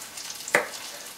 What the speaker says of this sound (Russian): Пока жарится лук